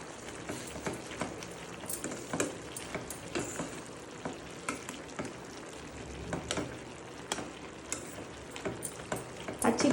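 Cauliflower and tomato curry with ginger-garlic paste sizzles in a pan while a spoon stirs it, giving a continuous close frying hiss broken by irregular scraping and clinking strokes.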